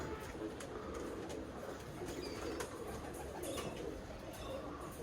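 Birmingham Roller pigeons, a kit of cocks, coo in a loft with dowel perches and wire floors, a low continuous murmur of overlapping calls with faint chirps and brief flutters, under occasional quiet talk.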